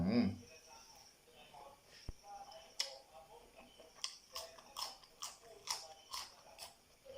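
Crunchy chewing and biting on grilled pork ribs, close up, with a run of sharp crackling bites at a steady rhythm of roughly one every half second, fairly quiet overall.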